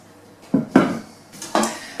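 Metal cake pans with 20-centimetre bases, readied for baking Black Forest gateau layers, clank and rattle close by in several sharp knocks spaced over about two seconds, with no talking.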